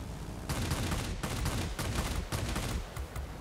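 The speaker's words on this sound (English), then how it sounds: "Couple of good shots from the shotgun here" Bursts of 30mm cannon fire from a Bf 109 Z in World of Warplanes, rapid heavy thumping shots in quick repeated volleys, loud and continuous across the moment.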